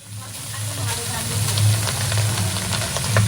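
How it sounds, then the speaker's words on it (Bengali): Carrots, beans and capsicum fry together in ghee, giving a steady close hiss and sizzle with a low hum running underneath throughout. "এখন গাজর বিনস আর ক্যাপসিকাম একসঙ্গে ভাজছি"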